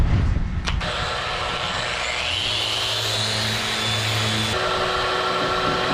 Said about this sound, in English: I'll do some nice, easy filler sanding.